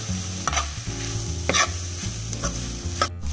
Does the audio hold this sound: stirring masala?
yes